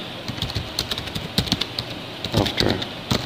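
Quick, uneven clicks of someone typing text on a computer keyboard, close and fairly quiet, with short pauses between bursts of keystrokes.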